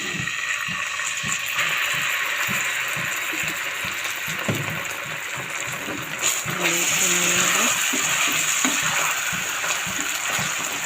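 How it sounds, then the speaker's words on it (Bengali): Homemade pizza sauce stirred in a pan with chili powder added, giving a steady sizzling, scraping bed of noise with irregular clinks and scrapes, heard alone without voices. "একটু নেড়ে নেব।"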